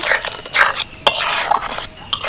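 A big spoon stirs garlic pickle with added vinegar in a container, with a few scraping, clinking strokes close by. No one talks.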